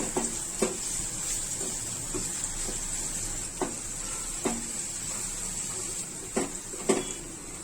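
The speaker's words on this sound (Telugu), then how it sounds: "ఒక స్పూన్ అల్లం వెల్లుల్లి పేస్ట్ వేసుకొని పచ్చి వాసన పోయేంత వరకు వేయించుకుందాము" Ginger garlic paste fries with onions in a pan as part of a prawn fry, giving a steady soft sizzle with occasional spatula scrapes and taps against the pan, heard without talk.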